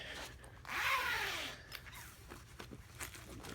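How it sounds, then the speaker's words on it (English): A long zipper running across a new bag is pulled open in one smooth rasp lasting under a second, followed by faint rustling and handling noises at close range. "They got the zipper that goes all the way across."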